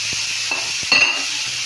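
Pork frying in a wok-style pan for adobo, a steady hiss of sizzling oil with a few scraping stirs and clinks, close and fairly loud.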